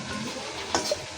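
Potatoes fry in hot oil in a pan on a home stove and are stirred, giving a soft, steady sizzle broken by a few brief scraping stirs near the end.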